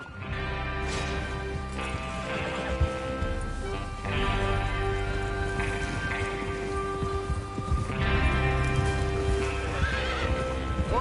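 In Red Dead Redemption 2, horses neigh and whinny over the steady clip-clop of hooves, with a continuous musical drone underneath and rain-like hiss in the background.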